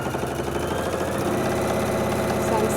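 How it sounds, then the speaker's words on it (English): A sewing machine stitches elastic onto a fabric N95 mask cover, a steady fast mechanical whirring and rattling held close and loud throughout the short stretch, with no voices over it. "I'm sewing down my elastic."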